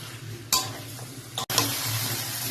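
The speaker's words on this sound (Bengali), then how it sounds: "এবার দেখো ভাজা কপি আর আলুটাকে এই মশলাটার মধ্যে দিয়ে দিলাম, আবার ভালো করে কষিয়ে নেব" Fried cauliflower and potato tossed into a spice masala and sautéed for a Bengali fish curry, with a continuous sizzle broken by a couple of sharp spatula scrapes against the pan.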